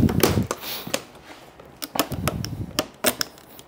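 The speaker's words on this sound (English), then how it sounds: "So to get started, we're gonna cut these straps. Just have my pocket knife." Pocket knife cutting the straps on a shipping box, a series of sharp snaps and clicks with some rustling of plastic and cardboard, close and moderately loud over a few seconds.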